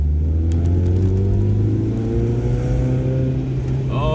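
A 1996 Fiat Punto Cabrio 1.6i engine hums steadily and loud from inside the car while driving, its low drone rising slightly in pitch as it pulls along, with no talking.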